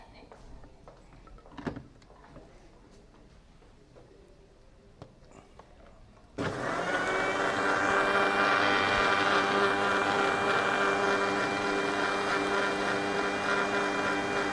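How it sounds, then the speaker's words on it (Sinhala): An electric blender kicks on abruptly partway through and then runs at a loud, steady whirr while blending a veralu (Ceylon olive) nectar drink, after a quieter stretch of small kitchen clatter. "එහෙනම් අපි මේ ටික එකතු කරගෙන බ්ලෙන්ඩ් කරගන්නයි හදන්නේ."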